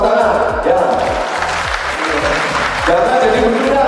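Audience applause at a YPP MNU Ajibarang family gathering, a loud steady wash of clapping from a crowd that runs throughout, with a rhythmic low thumping beat underneath and voices mixed in.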